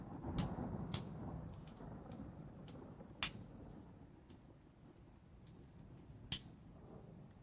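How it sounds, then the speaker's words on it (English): Rain falls steadily outdoors as a soft, constant hiss with a few sharp drop impacts, heard faint and at a distance, with no talking. "You can hear the rain."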